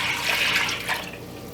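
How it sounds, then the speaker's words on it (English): A cornstarch-thickened gravy liquid is poured back into a pot, making a steady splashing, watery pour that runs close and fairly loud for a second and a half, then eases slightly. "And I'm gonna pour our liquid back into my pot."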